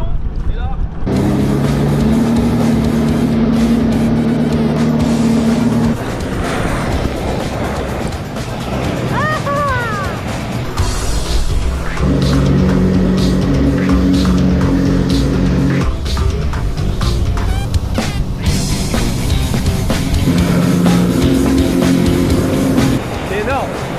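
A motorboat towing someone for a water sport revs up in stages, its engine note rising and holding loud and close over several throttle surges, with people shouting and talking over it.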